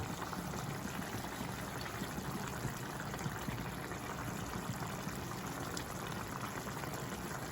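Aloo soyabean curry with water just added, simmering in a pan with a steady, soft bubbling and hiss, quiet and continuous with no voices.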